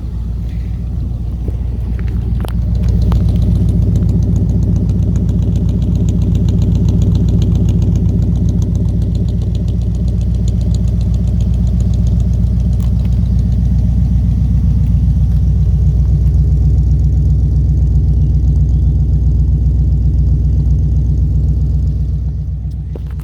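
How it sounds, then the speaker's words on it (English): A truck with a custom-fabricated exhaust and MagnaFlow mufflers idles nearby, giving a deep, steady, loud rumble that holds with little change throughout. "Move back here, you can hear the exhaust note."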